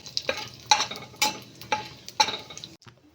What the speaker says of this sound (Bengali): ওই তেলের মধ্যেই ফোড়নে দিয়ে দেব গোটা শুকনো লঙ্কা, গোটা গরম মশলা ও গোটা জিরে দিয়ে ফোড়নটা একটু ভাজা ভাজা করব